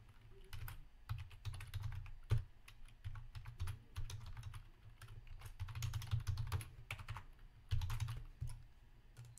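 Someone types an email address on a computer keyboard, producing a quiet, steady patter of key clicks in uneven runs with a few slightly louder taps and no talking.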